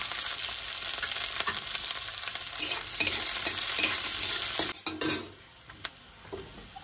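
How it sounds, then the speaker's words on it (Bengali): Chopped onion, garlic and green chilli fry with panch phoron in a pan, sizzling loudly under steady stirring and scraping. The sound then drops off abruptly, leaving only a few light knocks. "পেঁয়াজগুলো ভাজা হয়ে গেছে"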